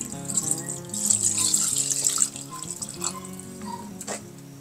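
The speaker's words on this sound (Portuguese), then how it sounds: "Agora eu vou colocar um pouco de água nela aí." A little water poured into a cooking pot from a tap, a steady splashing stream for about two seconds, then quieter trickles and drips amid kitchen background tones.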